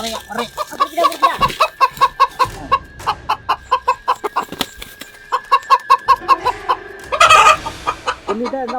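Chickens cluck repeatedly in quick, rhythmic bursts, fairly close, with a louder squawking flurry near the end, at night in a forest by a rural temple.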